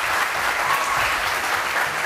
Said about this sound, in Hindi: कहते हैं सरबराह को देखकर तालियां बजानी चाहिए।